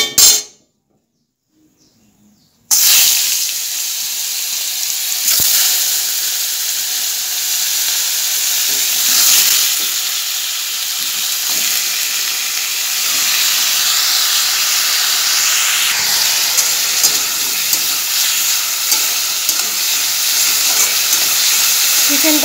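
Chicken pieces fry in a pan with a loud, continuous sizzle and hiss that starts suddenly after a brief silence and runs steadily, with occasional stirring clicks close by.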